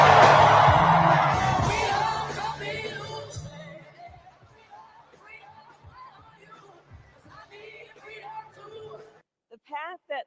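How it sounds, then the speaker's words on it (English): Crowd at the Democratic National Convention cheering and whooping loudly, a roaring swell that fades to a lower murmur of chatter and scattered shouts, with a brief burst near the end. "And the crowd goes wild"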